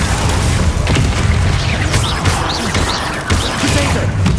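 Bombarda spell blast in Hogwarts Legacy, loud booming explosive crashes with thudding impacts and crackling bursts in quick succession, close and forceful.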